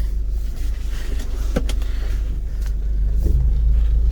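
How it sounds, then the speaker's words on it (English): Honda Element pulling away on a test drive after a transmission fluid and filter change, its engine rumble steady and close, with a couple of brief clicks or thumps partway through and the sound swelling slightly toward the end. "now we are going to test drive"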